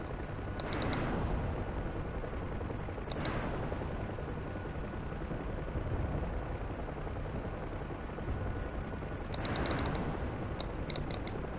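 Rockets fire from a Huey helicopter in a flight game: three separate whooshing launches, each with a short crackle, rise over a constant rotor and engine drone, with no talk.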